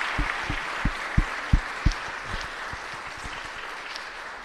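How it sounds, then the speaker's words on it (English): Sparse applause at a university research symposium, a handful of distinct claps spaced out over a few seconds, fairly faint against a steady room hum. "Let's give him a kind round of applause."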